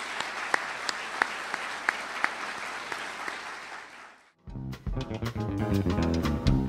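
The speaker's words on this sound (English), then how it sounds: "Let's give them a round of applause for being here today" Audience applause after a Duke University economy talk, steady crowd clapping with a few sharper individual claps for about four seconds, then cutting off abruptly into a burst of music.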